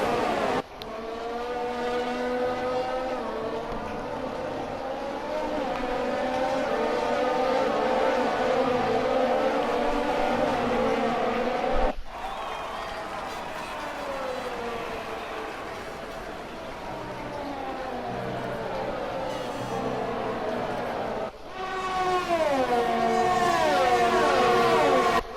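Formula 1 race cars in the F1 2020 video game at the British Grand Prix scream past in high-pitched waves of rising and falling engine whine, with sharp cuts between passes and no talking.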